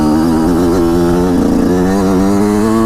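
A Yamaha YZ125 two-stroke dirt bike fitted with a YZ125X CDI box idles steadily and loudly up close, a buzzing rasp with a brief slight swell partway through, no voices.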